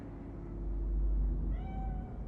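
A cat meows in the video game Cyberpunk 2077, with one drawn-out mew rising near the end over a steady low rumbling hum.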